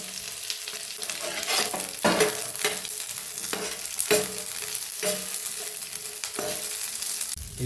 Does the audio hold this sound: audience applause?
no